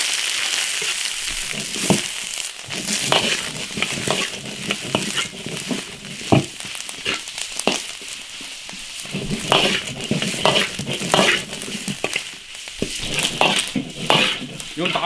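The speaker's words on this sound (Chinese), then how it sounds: "把这牛肚给它炒香" Beef tripe and plenty of garlic are stir-fried over high heat in an iron wok, giving a steady sizzle broken by frequent metallic scrapes and clanks of the spatula tossing the pieces.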